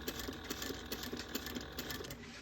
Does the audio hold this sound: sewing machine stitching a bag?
yes